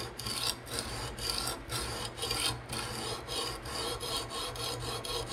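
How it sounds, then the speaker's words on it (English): An M390 steel knife blade is stroked repeatedly across a diamond resin stone on a TSProf fixed-angle sharpener, giving a steady rhythmic rasping scrape, close and fairly quiet, with no speech. "And we just continue sharpening."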